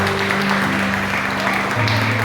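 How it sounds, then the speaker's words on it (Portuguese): A church congregation applauds, with dense clapping over sustained music tones, loud and continuous through the short stretch. "Aplauda Jesus Cristo."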